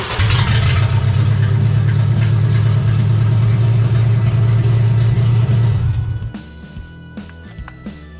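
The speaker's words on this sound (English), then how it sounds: "First time in 47 years that this engine has run." A 47-year-old engine, started for the first time in 47 years after bench-priming brake cylinders and new wiring, idles loud and steady with a deep rumble for about six seconds, then cuts off, leaving faint clicks and mechanical rattles.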